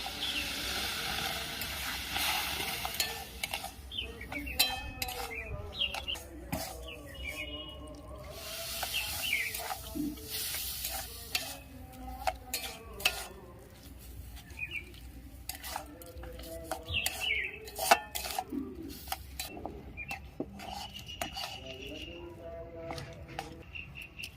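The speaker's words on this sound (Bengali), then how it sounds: "সুজিটা 2 থেকে 3 মিনিট নেড়ে নিয়েছি। অল্প অল্প করে জল দিয়ে দেবো।" Semolina is stirred in a hot pan as water is added bit by bit, with faint hissing and repeated spoon scrapes and pan clatter, plus some background bird calls and distant voices.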